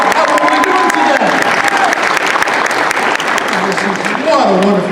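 A convention crowd applauds and cheers for cosplayers, with sustained clapping and whoops close by and voices mixed in.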